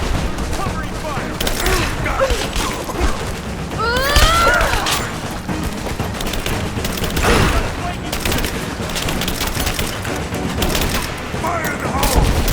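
Video game shootout in Rise of the Tomb Raider: loud, dense bursts of gunfire and rattling automatic weapons, with shouted voices from combatants mixed into the chaotic battle.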